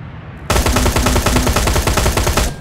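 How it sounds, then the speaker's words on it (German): A gun turret fires in the video game Terminator Resistance, a loud, continuous rapid burst of machine-gun shots lasting about two seconds with a sharp start and a quick cutoff. "Geschütz, scheiße."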